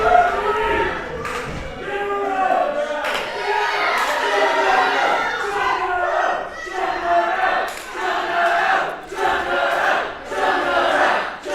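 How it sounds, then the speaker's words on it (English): At a wrestling event, an arena crowd chants loudly in rhythm, with repeated pulsing shouts and a dense roar of voices that keeps going the whole time. "The crowd chanting to Chakra."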